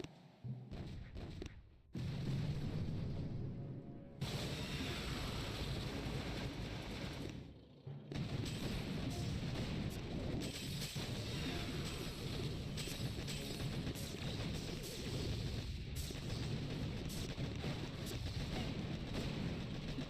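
Tanks in the mobile game Boom Beach fire in a steady stream of dull thumps and booms under a thick battle wash, fairly quiet overall, with a couple of brief drops to near silence.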